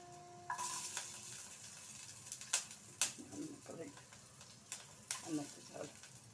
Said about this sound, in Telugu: పచ్చిమిర్చి వేయించేస్తాను.